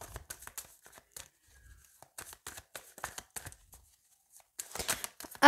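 Tarot cards being shuffled by hand close up: soft, irregular riffling and rustling bursts with brief pauses, ending in a denser flurry, no talk.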